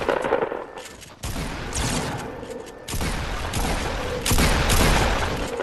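Sustained automatic gunfire in the Fortnite video game, loud, dense bursts broken by brief pauses, with a heavier volley toward the end.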